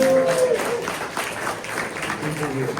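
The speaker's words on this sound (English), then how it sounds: "can we get a round of applause for the AI Collective for bringing us together tonight, friends?" Audience applause at a San Francisco tech demo night, moderate and steady from a room of people, mixed with a speaking voice and crowd chatter over it.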